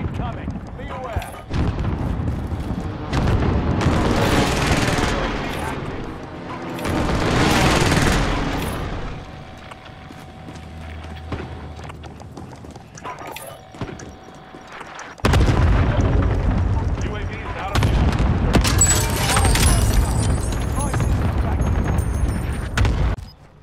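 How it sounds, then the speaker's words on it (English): Allied precision airstrike in a military video game: repeated heavy explosions and rumbling bursts arrive in waves, with a quieter stretch in the middle before another loud barrage, while players talk over it. "Allied precision airstrike incoming."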